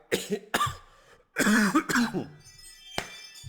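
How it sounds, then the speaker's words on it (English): Several harsh coughs in quick bursts, close and loud, with a lighter throat-clearing cough trailing after a pause. "Sorry for the coughing."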